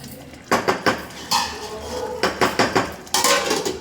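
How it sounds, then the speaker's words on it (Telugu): A metal lid clatters onto a pot of mutton curry cooking on a high flame, with several loud, close bursts of clanking cookware separated by short pauses. "మూత పెట్టి హై ఫ్లేమ్లో ఉడికించుకుంటున్నాను."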